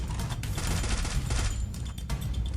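A long shotgun fires in the Free Fire video game amid dense, loud bursts of gunfire that crackle steadily over a couple of seconds.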